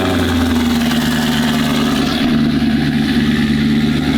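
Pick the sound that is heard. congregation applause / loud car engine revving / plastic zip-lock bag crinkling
loud car engine revving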